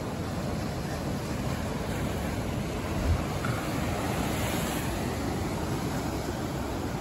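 Distant Pacific ocean waves roll in a steady, broad wash of surf with wind noise across the microphone, continuous and even throughout with no voices.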